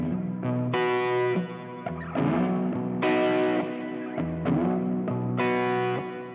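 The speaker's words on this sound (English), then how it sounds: "And then there's an overdrive on the dirty side." Guitar chords played through the overdriven dirty side of a reverb pedal on a Silvertone Paul Stanley Sovereign setup, loud and distorted, several strummed hits in a row with washy reverb tails and no talking.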